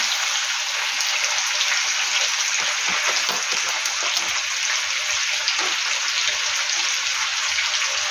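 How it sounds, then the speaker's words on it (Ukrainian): Marinated meat frying in a pan for a potato-and-meat dish, a loud, steady, close sizzle and crackle that stays even from start to finish, with no talking. "От, бачите, і жариться."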